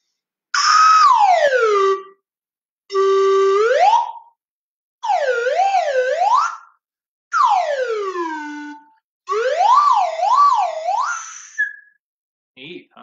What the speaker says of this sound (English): So I'm going to do it on my slide whistle.